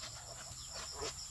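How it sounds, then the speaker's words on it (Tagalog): Faint clucking of chickens against a steady background hum, a few soft calls rising briefly near the end. "Pati manok na ito"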